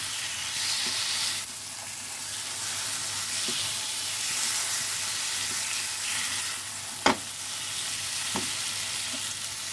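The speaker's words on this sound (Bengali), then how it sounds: "অনবরত খুব ভালো করে নাড়তে হবে, নেড়ে নেড়ে একদম শুকনো হয়ে যাবে।" Green banana (kachkola) bhuna frying in oil in a pan, a steady close sizzle running throughout with occasional sharp scrapes and knocks of a spatula stirring the mixture.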